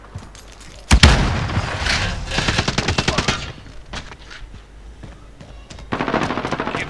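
FiNN LMG machine gun in Call of Duty Modern Warfare, a sharp boom followed by a long, loud run of rapid automatic fire, a quieter lull, then another close burst at the end.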